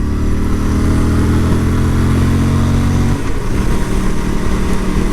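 An Aprilia RS457 motorcycle engine revs hard while being ridden, a loud steady drone with rising harmonics that drops and roughens after a gear change about two-thirds of the way through.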